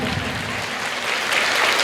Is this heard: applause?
yes